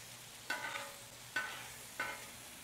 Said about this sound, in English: Let's get these guys cooking in this butter.